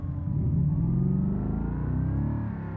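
An Audi RS7 engine revs in the driving game BeamNG.drive, a loud, steady mid-pitched roar whose tone climbs gradually over a few seconds before easing slightly at the end.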